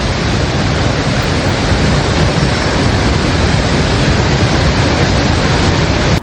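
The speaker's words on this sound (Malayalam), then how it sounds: "കടുവപ്പുഴ വാട്ടർഫാള്" Rushing water pours down Kaduvappuzha waterfall, a loud, dense, unbroken roar that fills the whole clip before cutting off at the very end.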